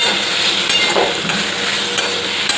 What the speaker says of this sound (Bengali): তো মাছগুলো এখন এরকমই ভাজাই করে দিচ্ছি।